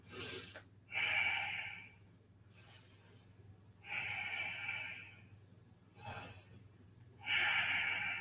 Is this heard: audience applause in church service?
no